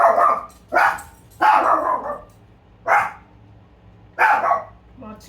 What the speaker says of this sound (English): While Chico goes to the house and barking